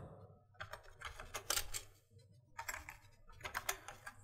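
Rapid computer keyboard typing at a desk in two bursts of quick, close key clicks separated by a short pause, with no talking.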